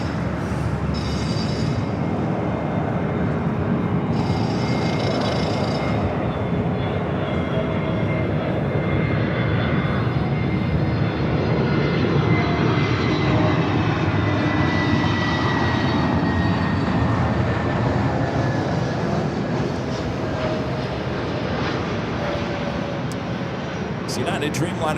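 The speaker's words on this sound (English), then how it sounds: "United Dreamliner heading to Shanghai, flight 198. It's a brand new 787-9 Dreamliner" A brand-new United Boeing 787-9 Dreamliner on flight 198 to Shanghai at Los Angeles airport, its jet engines producing a loud, steady broadband roar that holds constant throughout.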